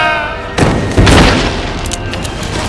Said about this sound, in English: Recharge the cannons and fire again!